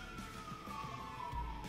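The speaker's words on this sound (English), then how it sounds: "that's my ambulance!" An ambulance siren passes outside, heard from indoors as a faint, steady wailing tone that slowly falls in pitch, with low rumbling underneath.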